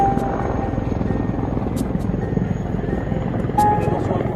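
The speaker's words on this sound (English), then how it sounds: "Attack helicopters and other aircrafts for tactical operations" An attack helicopter's rotor beats in a continuous, loud chop throughout, steady and close with no pauses.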